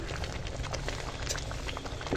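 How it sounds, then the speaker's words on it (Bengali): A pot of mung dal khichuri with vegetables boils hard on a wood-fired clay stove, giving a continuous close bubbling and popping with crackly texture and no talking. "আমাদের খিচুড়ি টকবক করে ফুটছে।"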